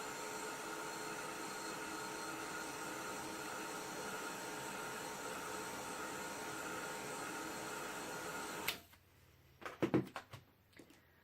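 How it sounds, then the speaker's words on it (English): A heat gun blows hot air in a steady broadband whoosh for several seconds, then shuts off, followed by a few soft knocks and handling sounds. "give it a little zap with my heat gun"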